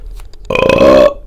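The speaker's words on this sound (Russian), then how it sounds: "Вот ты рыгаешь." A single loud, drawn-out human burp, close and clear, rising abruptly and lasting about half a second before stopping.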